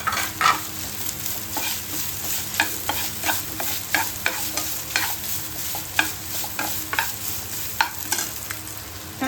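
Garlic, curry leaves and tomato sauté in a pan for a Tamil fish kulambu, a close, steady sizzle broken by regular stirring scrapes, with no one speaking.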